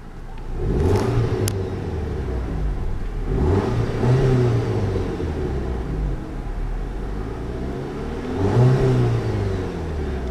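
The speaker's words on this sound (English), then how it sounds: "Go ahead and give it a rev." A 2012 Audi TT 2.0T Quattro engine revs up and down three times, each rise in pitch swelling and falling back over a steady idling rumble.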